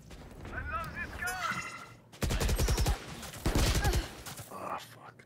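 Rapid automatic gunfire from a gun in the Valorant video game, a loud dense burst of rattling shots followed by a second burst, preceded by faint whispered game voices and effects.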